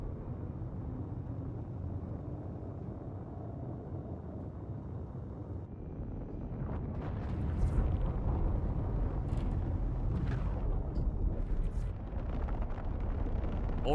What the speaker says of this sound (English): This thing sounds like a full-on rocket ship.